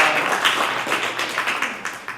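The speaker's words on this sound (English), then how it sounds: "You can clap if you want." An audience claps at a panel event, producing a dense, steady patter of many hands at moderate volume that slowly tapers off toward the end.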